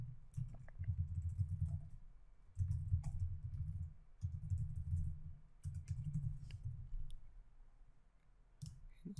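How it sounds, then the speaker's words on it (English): Typing on a computer keyboard into an Excel spreadsheet: quick, light key clicks in several short bursts with brief pauses between them, close and fairly quiet over a low background hum. "I'll type something in my Excel spreadsheet."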